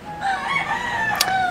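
A rooster crows in the Philippines, one long, drawn-out call that sounds fairly close and clear over a steady background.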